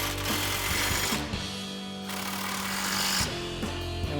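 Impact wrench with an 18mm socket tightening bolts on a Barricade HD front winch bumper of a 2011-2016 Ford F-250 Super Duty, loud close buzzing hammering bursts with brief pauses between runs.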